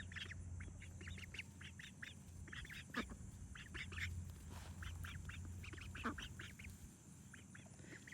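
Ducks by a pond quack in quick, repeated bursts, several birds calling over one another at moderate distance over a low background rumble.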